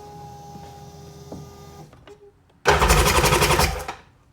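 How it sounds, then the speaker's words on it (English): A Sea-Doo 951 DI engine with the air not hooked up sits with a faint hum and a few clicks, then the starter cranks it in a loud, rapid, chattering burst of about a second and a half that stops without firing. "Just gonna crank it without the air hooked up."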